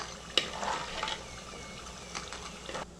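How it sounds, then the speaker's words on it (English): Vadi shallow frying in hot oil: a soft, steady sizzle with a sharp clink near the start and a few faint stirring scrapes, close by and with no talking. "Let's fry the vadi. Just a shallow fry till they just get a nice color."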